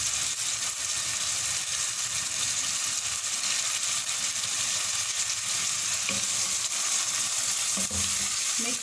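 Green chili paste and ginger-garlic paste stirred into a frying masala with tomatoes for gola kabab: a steady, dense sizzle throughout, with faint stirring knocks near the end and no talk.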